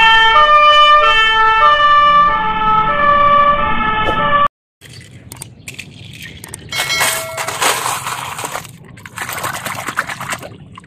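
Toy fire engine siren playing a looping two-tone electronic wail, loud and close, cutting off partway through and followed by clattering handling noise of plastic toy vehicles.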